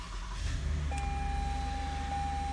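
A 2016 Toyota Sienna XLE van starts by push button, its engine catching and settling into a steady low idle, close and continuous, with a chime beeping partway through.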